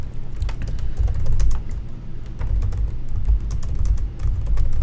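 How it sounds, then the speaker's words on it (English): Rapid typing on a computer keyboard, a close, steady stream of key clicks in uneven bursts with brief pauses, set over a low background hum and no speech. "I really should be typing this down."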